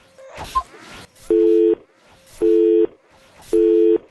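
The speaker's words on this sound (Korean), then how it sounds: "왜 전화 끄는 거죠?" A telephone busy tone plays in three steady, evenly spaced bursts after a call is hung up, heard in a mobile game session, with brief noise and voices just before the first burst.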